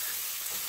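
Vegetables sautéing in a pan for Costa Rican gallo pinto, a close, steady bright sizzle with no pauses, heard alone and very briefly.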